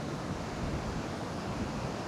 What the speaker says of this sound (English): the waves are really impressive here